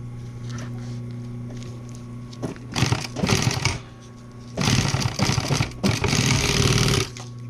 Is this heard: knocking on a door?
no